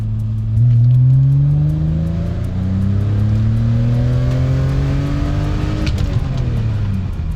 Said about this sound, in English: the intent is for each one of these pulls to be on the same road and take the car all the way to redline